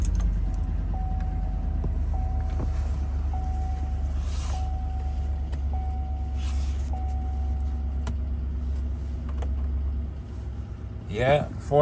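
A 2007 Chevrolet Tahoe LTZ with about 450,000 km on its original engine idles steadily after a cold start, a deep continuous rumble with faint periodic beeping, ending with a brief rustle.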